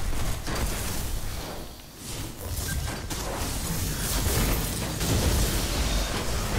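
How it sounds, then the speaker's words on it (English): A Nova bomb erupts during a Destiny multiplayer match, a heavy rumbling blast folded into continuous loud gameplay noise and effects. "Nova bomb."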